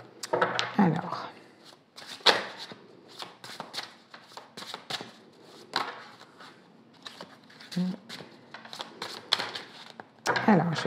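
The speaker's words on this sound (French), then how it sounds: "je vais faire une coupe" A deck of tarot cards is shuffled and cut in a run of crisp, riffling flutters and papery slaps, loud and close, with a voice speaking briefly between bursts.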